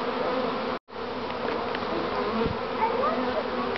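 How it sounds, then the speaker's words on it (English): A dense, steady hum of wild honeybees from a swarm fanning at the entrance of a box hive, continuous and close, broken by one brief drop-out near the start. "the entrance to the box has lots of bees fanning on the outside"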